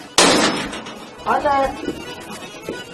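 A sharp, loud door bang right at the start, followed by people talking and some shuffling sounds.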